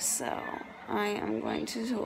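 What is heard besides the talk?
No distinct noise like a dog, phone or traffic.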